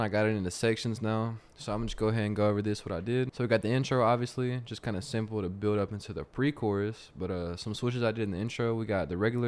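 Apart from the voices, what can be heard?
No distinct noise like a dog, phone or traffic.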